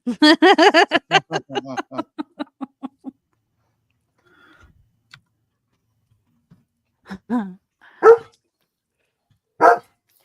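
A dog barks in a rapid run of a dozen or so loud yaps, then a few scattered barks follow after a quiet gap.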